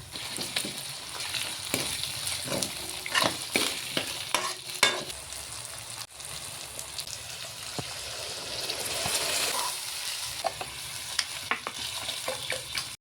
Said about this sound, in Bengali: তেলেতে ছেড়ে এই চলে গেল। এরকমভাবে ভাজতে হবে ডালটা।